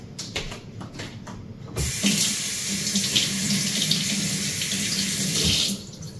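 Kitchen tap water runs steadily into a sink while food is washed, a close, even gushing spray that starts after a few soft clatters and stops near the end.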